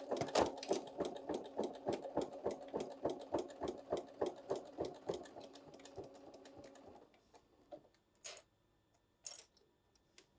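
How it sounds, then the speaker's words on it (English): Sewing machine top stitching an eyeglass protector, a fast, close, steady run of stitches for about seven seconds, then slowing to a few isolated mechanical clicks and short bursts with quiet between them. "And then we're going to go now get our top stitching done."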